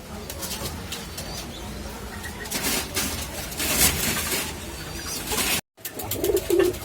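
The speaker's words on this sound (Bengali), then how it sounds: "নীলদুম্বা কবুতর" Nil dum (blue-tail) pigeons coo in low, repeated calls close by, partly buried under dense rustling and fluttering noise.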